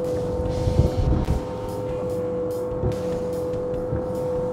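A Suzuki DF 200 outboard motor at full throttle drones at a steady high pitch while the hull thumps and splashes over waves, with wind rushing past.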